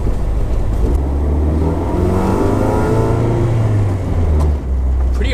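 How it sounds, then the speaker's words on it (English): A car engine revs up through the exhaust, with a raspy, droning tone that rises and holds steady, loud and close. "I gotta fix that exhaust. Too raspy."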